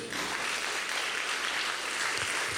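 A church congregation bursts into sustained applause, a dense even wash of many hands clapping steadily and close, with no voices standing out.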